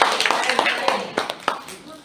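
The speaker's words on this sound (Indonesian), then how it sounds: "Tepuk tangan dulu dong buat narasumber kita yang pertama" An audience at a teachers' learning-community event in Indonesia applauds the first speaker with brief, moderately loud clapping in scattered bursts as a voice talks over it.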